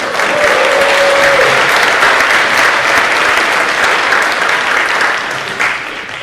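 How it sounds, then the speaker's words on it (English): A room full of audience members at a public speaking contest applauds loudly and steadily for about six seconds, a dense wash of clapping that eases slightly toward the end. "Please welcome him with a very hearty round of applause."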